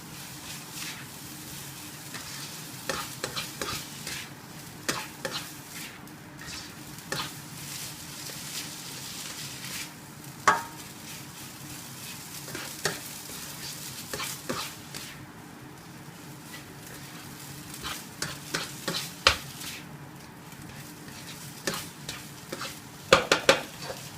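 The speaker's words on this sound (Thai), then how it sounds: "แล้วก็คนมัน" Fried rice with prawns in a pan, stirred steadily with a utensil over a soft sizzle, with irregular scrapes and metallic taps against the pan and no talk.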